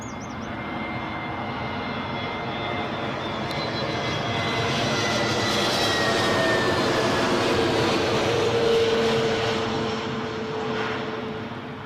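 An aircraft at London Heathrow airport roars past with a broad, loud engine rumble that swells toward the middle and slowly fades, with no talk over it.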